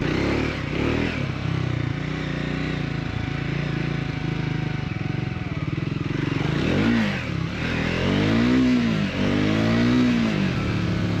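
Steady, loud engine note from a Triumph Scrambler 400X being ridden on a road, building into several rising and falling revs near the end, with no voices over it.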